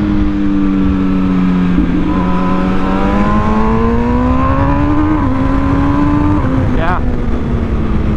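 An MV Agusta Brutale 1000 Serie Oro motorcycle engine drones loudly and steadily while being ridden, its pitch rising and shifting as the rider works through the revs, with a brief blip near the end.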